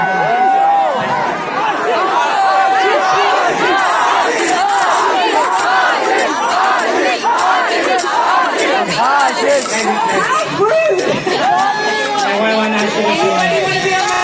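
A packed crowd of Marvel fans at a fan event in India screams a team cheer at full voice, loud and sustained for the whole stretch.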